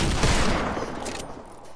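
Gunshots from the Fortnite video game come as a dense, continuous burst of rapid firing that stays loud and then fades slightly toward the end, with no talk.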